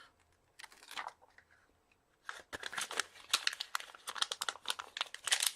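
Backing being peeled off a Stampin' Up! paper crafting piece in a quiet room: a soft crinkle near the start, then a dense run of close crackling and rustling that keeps building toward the end.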